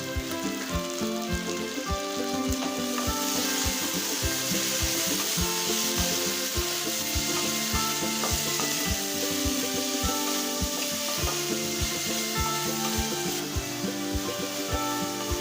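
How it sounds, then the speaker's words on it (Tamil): Small onions sautéing in a pan for Tamil-style onion chutney, with a steady, close sizzle and frequent rhythmic scraping and tapping of a spoon against the pan throughout, no voices. "இப்போ சின்ன வெங்காயம் நல்லா வதங்கிடுச்சுங்க"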